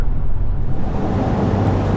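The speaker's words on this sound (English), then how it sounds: "all I hear now is just the engine" Inside a 2025 Ford Ranger Raptor cruising at highway speed, a low steady engine drone mixes with broadband road and wind rumble, continuous and fairly loud with no talking.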